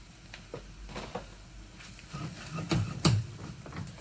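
Vegetable mince for a veggie spaghetti bolognese frying over medium heat in a pan, with a soft sizzle under intermittent scraping and stirring knocks, fairly quiet and close.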